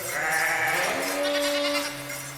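Sheep and goats bleating in a flock kept by herders, several overlapping wavering calls close by that fade into a lower sustained bleat.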